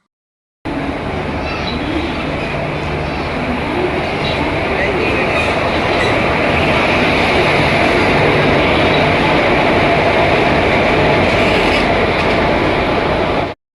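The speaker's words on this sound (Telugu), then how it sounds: "మా ట్రైన్ అయితే వచ్చేసిందనమాట" A passenger train pulls into a station with a loud, continuous rumble and rolling clatter of wheels on track, close by and steady throughout, with faint voices in the background.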